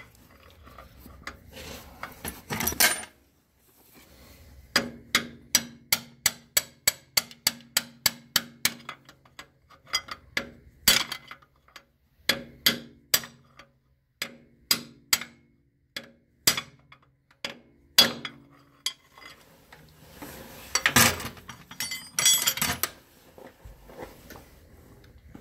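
Sharp, evenly spaced hammer blows ring out in a long series, with pauses between bursts and a clattering rumble at the start and near the end.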